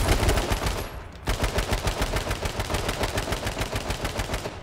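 Rapid automatic gunfire in a video game, sustained close bursts of evenly spaced shots with a brief pause near the start before the firing resumes steadily.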